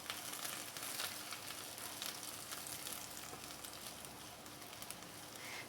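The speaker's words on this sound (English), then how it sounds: "You can hear that sizzle. That means my pan is nice and hot." Steady, dense sizzling of wild mushrooms frying in a hot pan, a continuous crackle at even loudness throughout with no talking.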